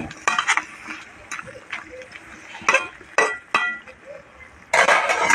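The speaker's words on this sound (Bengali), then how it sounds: "আবার একটু আমি নাড়াচাড়া দিয়ে দিচ্ছি" A spoon or spatula stirs hilsa fish head with Malabar spinach greens in a cooking pot, giving several sharp, close scraping and clinking strokes spaced irregularly over a faint background.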